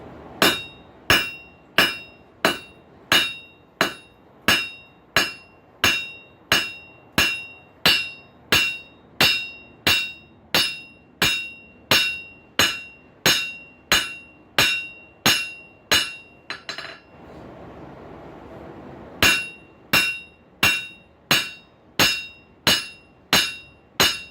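Hot steel for a forged paddle bit blade is hammered flat with evenly spaced, ringing metallic blows, about one per second, loud and close, broken by a brief pause before the steady rhythm resumes.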